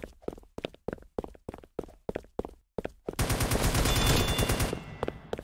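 Gunfire in a Roblox video game: a rhythmic string of about ten separate close shots, then a dense, loud burst of rapid automatic fire that fades near the end.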